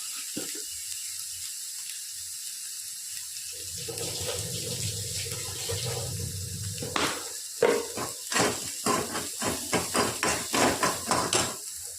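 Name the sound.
washing curry leaves under tap water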